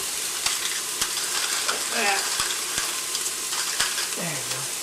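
Onions sweat in a pan for marinara sauce, giving a constant soft sizzle with a few clinks and scrapes of stirring, close up and heard alone.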